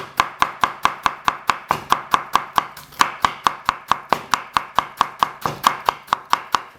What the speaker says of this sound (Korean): 네 이렇게 썰어 주시면 돼요